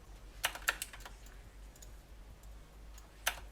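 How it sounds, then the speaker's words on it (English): Computer keyboard keys pressed in a few quick separate clicks, a short cluster near the start and a single tap toward the end, crisp and close against a quiet background hum. "I hit Ctrl-Shift-F on my keyboard"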